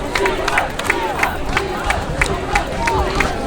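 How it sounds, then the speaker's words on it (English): A crowd at a homecoming high school football game chants in a steady rhythmic pattern, a dense roar of many voices filling the stands throughout. "As a Chima chant has broken out in the crowd"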